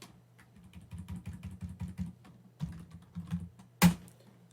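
Someone types a git command on a computer keyboard, a close, soft flurry of keystrokes in short bursts with brief pauses, ending in one firm, louder key press like the Enter key.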